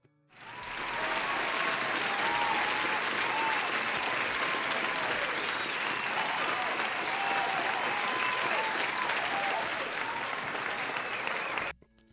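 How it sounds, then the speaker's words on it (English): A canned applause sound effect triggered from a button: a uniform, dense crowd clapping and light cheering that starts abruptly, holds at constant loudness for about eleven seconds, then cuts off sharply. "Oh, where my applause at? I got an applause button around here."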